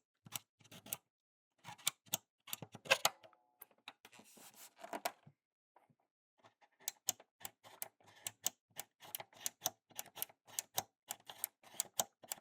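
Sharp plastic clicks from the power button of a PlayStation 1 console, close and crisp, pressed repeatedly in irregular bursts with short quiet gaps, no talking.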